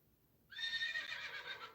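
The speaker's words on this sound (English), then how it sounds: "Horse would be correct." A horse neighs once, a bright, wavering whinny that starts abruptly and holds for over a second, fairly faint and heard alone.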